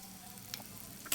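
Onions sizzle and fry in a pan for a restaurant-style chicken curry, a steady soft crackle with a few brief stirring scrapes, close and quiet, with no voices.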